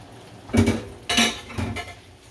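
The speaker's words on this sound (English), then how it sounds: "I'm gonna add the ground turkey to it." Ground turkey going into a pan of toasted, browned crushed garlic: three distinct metallic clanks of utensil against pan, close and fairly loud, with quiet gaps between them and no talking.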